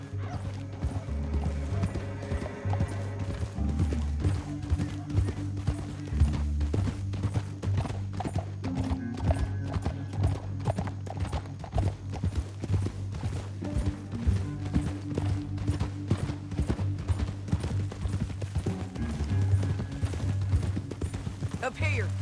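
Horse hooves gallop in Red Dead Redemption 2, a fast steady clatter of hoofbeats running for the whole stretch, with occasional whinnies, while characters talk and game music plays alongside.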